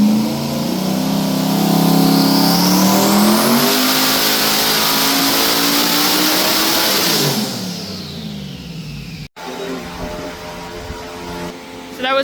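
Twin-turbo LS V8 in a Trans Am roaring up through the revs on a dyno, a loud sustained climbing pull that peaks then drops off abruptly, followed by a quieter idle.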